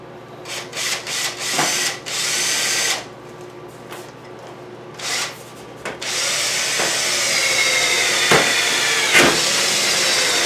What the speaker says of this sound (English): And yes, this drill bit's a little dull.